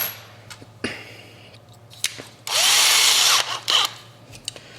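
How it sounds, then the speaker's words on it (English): A power drill drilling out rivets on a Hot Wheels die-cast car whirs in short bursts, with one longer grinding run in the middle, separated by clicks and clanks of metal. "let's get to drilling on this gasser"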